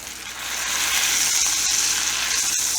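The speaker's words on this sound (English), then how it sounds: "All right, let's start the slow sear here." A tomahawk ribeye steak sears in a hot pan, giving a loud, steady sizzle that rises in the first second and holds evenly, with no voices.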